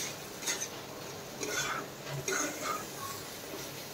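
Rice is being stirred in a cooking pot, with soft scraping and light clinks repeating every second or so, faint and close, while a quiet low hum runs beneath.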